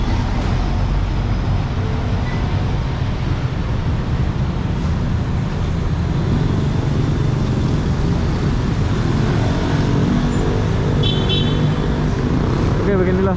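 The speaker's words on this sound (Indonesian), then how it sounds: "Macet ya. Sini kurang motor ya, tapi banyak mobil." A dense, steady roar of daytime traffic fills a congested road near the city centre of Kuala Lumpur, with many cars idling and crawling close by and a short horn toot near the end.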